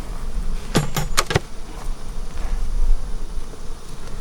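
Honey bees buzz in a steady, close drone around an open beehive in a weak, struggling colony, with a few sharp clinks early on.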